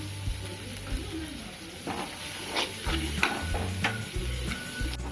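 Garlic and onions fry on a flat tava in a home kitchen, a steady close sizzle broken by scraping stirs and a few sharp clinks, with a low hum running beneath and no talk.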